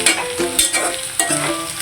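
Bay leaves, cardamom and cinnamon hitting hot oil for a spicy chicken bhuna: a bright, close sizzle with a few sharp stirring scrapes and pops over a short span.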